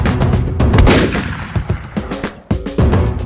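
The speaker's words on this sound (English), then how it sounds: "So if you hear ambient noise in the background, that's real gunfire." Real gunfire crackles across a live shooting range, a rapid uneven series of loud, sharp reports and overlapping shots with brief gaps between bursts, close and dominant, with no talking.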